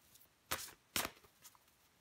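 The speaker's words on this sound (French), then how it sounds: "Je vais encore prendre une carte pour vous." Tarot cards being shuffled and drawn, two soft papery riffling bursts close by, then a lighter slide and flick, all quiet with no one talking.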